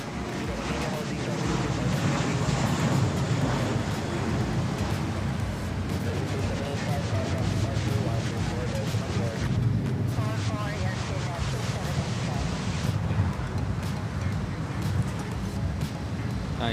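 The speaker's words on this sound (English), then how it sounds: "Nice takeoff, Philippine Airlines from Puerto Princesa." A Philippine Airlines airliner takes off at Manila Airport, a continuous broad jet roar building and rumbling steadily while voices talk over it.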